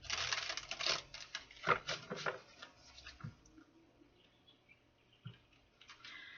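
Soft, quick riffling and tapping of tarot cards being shuffled in short bursts, close and quiet, then brief scattered taps.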